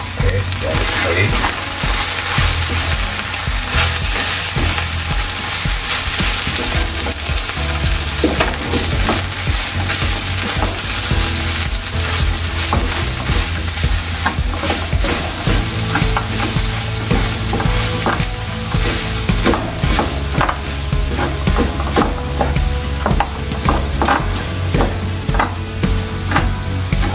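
Batter-coated vegetables sizzle and crackle steadily in hot oil while a utensil stirs and scrapes through them, close and continuous.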